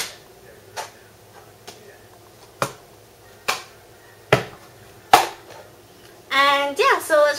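Sharp hand claps and cup taps land one by one with gaps between them in the cup song rhythm, and a voice speaks briefly at the end.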